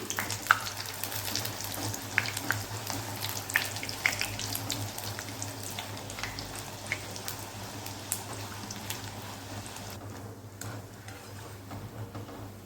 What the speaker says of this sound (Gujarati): હવે તળી લઈશું તેલ પણ ગરમ થઈ ગયું છે અને તેમાં આપણે ધીરેથી એક પકવાનને ઉમેરી દઈશું